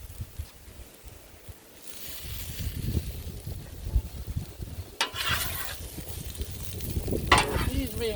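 Precooked kielbasa and cabbage sear on an outdoor griddle in gusty wind, a soft crackling sizzle building in bursts with occasional spatula scrapes and wind noise.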